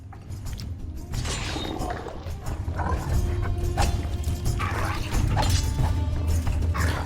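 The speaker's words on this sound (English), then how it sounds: "Should have the dog have another go at him." A dog attacks an armoured knight in combat in the Game of Thrones RPG on PS3, with growling, yips and snarls over clashing game noise and a steady low background rumble, all fairly loud and continuous with no talking.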